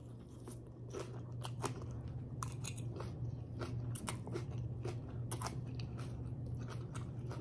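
Close, steady crunchy chewing and biting of chow mein noodles with onion mix, with repeated crackly bites over a low constant background hum and no talking.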